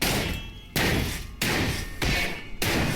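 Repeated blows against a closed metal door in Cataclysm: Dark Days Ahead, five loud resonant slams in a steady rhythm, each fading into a reverberant tail before the next hit lands.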